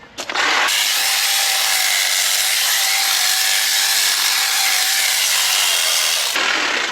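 A cordless hedge trimmer cuts through shrubs, its steady high buzzing whine running loud and unbroken for several seconds after a brief start, with faint rustling of branches.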